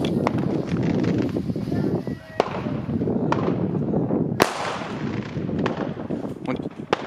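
Chinese firecrackers set off on New Year's Eve, heard as a dense crackling rattle with several sharp louder bangs standing out, under fairly loud chatter and outdoor noise.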